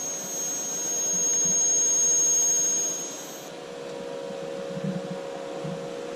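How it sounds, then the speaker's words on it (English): TIG welding on the gas tank of a 1955 Nomad produces a steady buzzing hum with a thin high whine for the first few seconds, then a lower continuous drone with faint crackles. "TIG welding takes skill"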